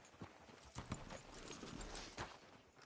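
Horse hooves clip-clop in Red Dead Redemption 2, a steady run of hoofbeats that is fairly faint and continuous, with no speech.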